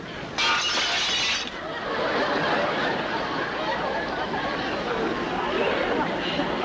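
A glass drops and shatters in a sudden bright crash of breaking pieces near the start, then fades under lively talk and chuckling in a comedy scene.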